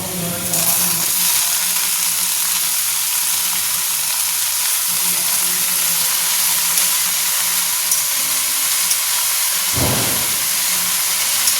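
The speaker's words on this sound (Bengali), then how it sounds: "লাল করে ভাজা হয়ে গেছে এবার শাকটা দিয়ে দেবো" Steady, loud sizzling and crackling of leafy greens frying in a hot pan, continuous throughout, with a brief low thump near the end.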